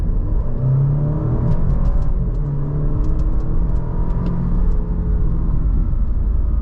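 A 2022 Alfa Romeo Giulia Sprint engine revs and pulls hard accelerating to 60, a steady loud rumble with rising tones and brief gear-change breaks, no talking.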